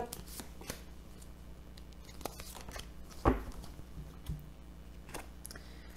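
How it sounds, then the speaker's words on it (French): Tarot cards are laid out on a table in soft, papery rustles and light slides, with one sharp snap of a card near the middle and a smaller tap shortly after, all fairly quiet and close. "Alors, on va remettre une carte sur chaque."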